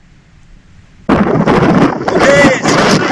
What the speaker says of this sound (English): Just sitting here listening to the weather building and enjoying a bit of heat.